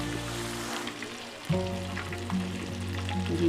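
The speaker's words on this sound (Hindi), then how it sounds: "फ़िश जो है फ्राई हो चुकी है" Fish frying in a pan on a low flame, a soft, steady sizzle with faint bubbling close by, swelling slightly partway through.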